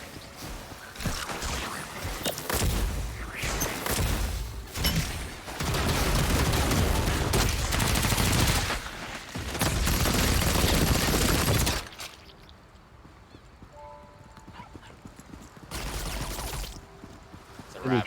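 Gunfire in the game Lost Ark comes in several loud, dense bursts of rapid shooting separated by brief gaps, with quieter stretches and a final short burst near the end.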